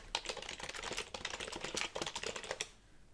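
Rapid, steady typing on a computer keyboard as notes are entered in desktop report software, with dense close key clicks for about two and a half seconds before stopping.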